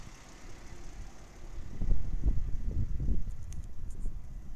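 A 1994 Jaguar XJS engine idling quietly, a low steady rumble that swells slightly partway through, with faint wind noise and no talk.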